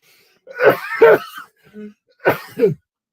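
A sharp sneeze followed by a couple of smaller throaty bursts, close and loud, with short pauses between them.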